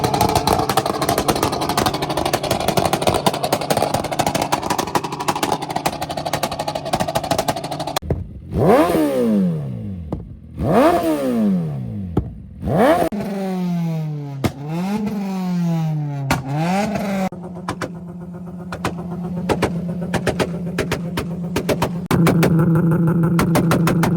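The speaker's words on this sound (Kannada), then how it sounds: "Super bikes, Lamborghini." Superbike and Lamborghini engines rev at an auto expo in Mysuru, a series of rising and falling revs that climb into a cluster of quick blips, then settle into a steady idle, loud and close with no talk.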